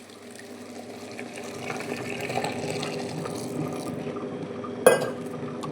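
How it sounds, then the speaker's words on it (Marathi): A wet grinder working khapli wheat as plenty of water pours in, a steady watery churning rush with a low mechanical drone and one brief sharp knock near the end. "आणि ग्राइंडर तर स्टार्ट करते आणि वरून पाणी घालायचं आहे भरपूर सारं"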